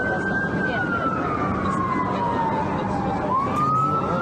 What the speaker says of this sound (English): right, the sirens.